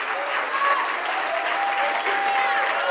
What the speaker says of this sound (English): why don't somebody clap their hands to the Lord for just a moment?